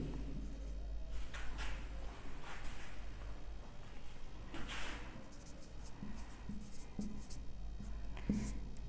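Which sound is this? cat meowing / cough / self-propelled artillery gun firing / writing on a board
writing on a board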